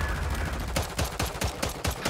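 Rapid video game gunfire, a string of quick sharp shots spammed in close succession, loud and alone with no talking.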